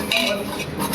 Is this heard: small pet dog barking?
no